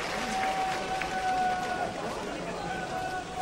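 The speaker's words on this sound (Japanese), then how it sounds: "今スタンドからもですね、丸山さんに大きな拍手が送られました" Stadium crowd applauds steadily after an elementary school girl's ceremonial first pitch at a Japanese high school baseball championship second-round game, Chiben Wakayama versus Shiritsu Wakayama. The clapping forms a dense, sustained roar of many hands.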